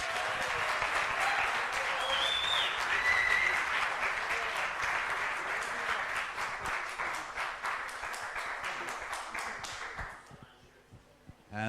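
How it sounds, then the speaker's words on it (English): Sustained applause from a crowd, steady and dense for about ten seconds before tapering off into a few scattered claps. "Let's give him a nice round of applause, please."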